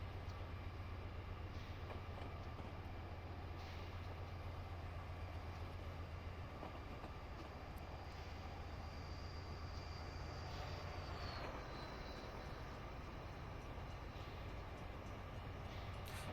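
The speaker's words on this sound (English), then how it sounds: "I will say the sounds on the Metro F40s aren't bad." A Metro F40 locomotive train passing, a steady low rumble of engine and rolling wagons held at constant loudness throughout, with a faint high whine shifting in pitch partway through.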